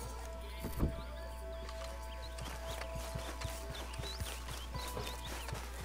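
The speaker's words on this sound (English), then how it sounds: "why is my horse making pig noises?" Faint, low pig-like grunting and snorting from a horse in Red Dead, with soft clip-clop thuds over a steady background hum, quiet and somewhat distant.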